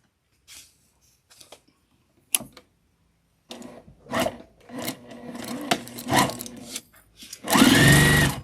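A sewing machine back stitches a bag seam in short, intermittent runs of rasping needle chatter with pauses between, ending in a loud sustained burst.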